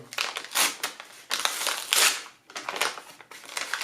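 Crinkly plastic bubble wrap rustles and crackles in several bursts as a padded envelope holding silver bullion coins is handled close up.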